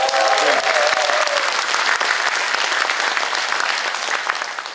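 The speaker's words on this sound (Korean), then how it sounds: "박수 한번 보낼게요." Audience applause fills a conference hall at a National Assembly members' hall policy forum, dense and loud from the start, with a brief voice at the outset, then slowly tapering toward the end.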